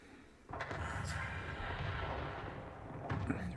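A deep boom of artillery fire in World of Tanks erupts and rumbles on heavily, with a sharper crack near the end, like distant battle in a game.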